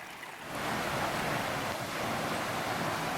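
A low, rocky creek near Gragg Prong Falls in Pisgah National Forest, North Carolina, running shallow during a drought, gives a steady, close, broadband rush of water that swells in after a quieter start, with no voices.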